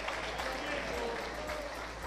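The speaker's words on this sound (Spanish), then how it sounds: "aplauda bien fuerte al Espíritu Santo" A church congregation claps loudly and steadily together, a dense wash of applause with voices mixed in throughout.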